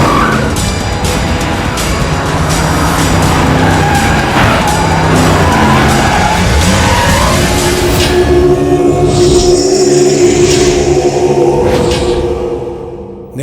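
A car tears away with loud, sustained tire screeching over a rumbling engine, the skid continuing steadily for several seconds before tapering off, with no voices.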